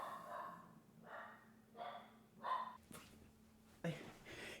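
Willow, a freshly trimmed pet dog, lets out a string of about five short, soft barks and huffs at an irregular pace, close by and fairly quiet over a steady low hum.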